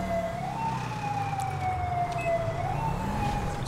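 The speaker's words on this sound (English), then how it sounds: "I really like the sound of the siren." Police car siren in the GTA 5 video game, a loud, steady wailing tone sweeping slowly up and down over continuous engine rumble throughout.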